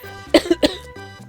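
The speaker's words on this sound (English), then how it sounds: "I am still coughing" Two sharp coughs in quick succession, close and loud, with a quieter hum in the background.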